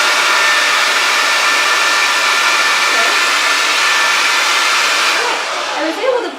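A handheld blower pushes a continuous loud, breathy rush of air upward from below, holding steady for several seconds before dropping off and sputtering near the end.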